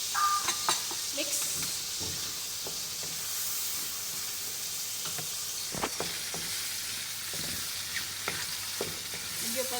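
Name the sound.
mixing vegetable pasta with cooking cream in pan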